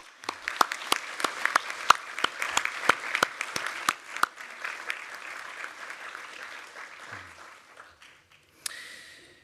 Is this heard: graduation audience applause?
yes